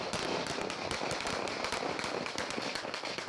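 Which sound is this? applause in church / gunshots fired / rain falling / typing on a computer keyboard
gunshots fired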